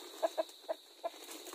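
Four spaced, soft clucks come from a free-range Rhode Island rooster, fairly close, over a quiet background.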